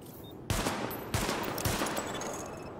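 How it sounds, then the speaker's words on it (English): Sidearm pistol shots fired at highlighted targets in Tom Clancy's The Division, three sharp close reports spaced about half a second apart, each trailing into a short ringing decay, with no talking. "Switch to sidearm. Weapon test initialized. Open fire at the highlighted targets."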